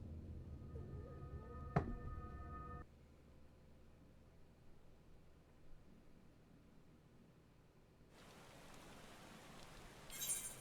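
Rain in Final Fantasy XIV comes through as a faint, steady hiss, swelling into a louder wash of patter in the last few seconds after a short chime at the start.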